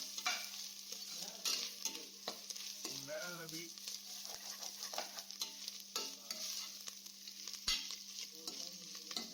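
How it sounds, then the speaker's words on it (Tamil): Tomatoes are sautéed in a pan for seeraga samba ghee rice, giving a soft, continuous sizzle with repeated scraping and clinking stirs of a spoon against the pan, fairly quiet and close. "ஸோ நம்ம நல்லா வதக்கிப்போம்"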